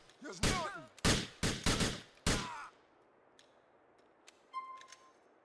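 Enemy gunfire in Grand Theft Auto 4, five loud sharp shots in an irregular volley over two seconds, followed by quieter background ambience, faint distant pops and a brief metallic ping.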